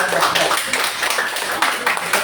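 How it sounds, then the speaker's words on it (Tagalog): A church congregation claps steadily and densely, a continuous patter of many hands filling the room at close range. "Palakpakan natin ang Panginoon sa buhay ni Brother Daniel."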